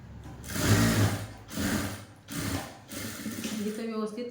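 A sewing machine stitches a blouse hook patti in several rhythmic mechanical bursts with short pauses between them, close and moderately loud.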